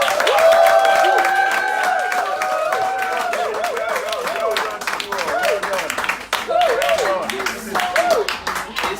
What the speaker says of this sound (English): could you all please clap for yourselves?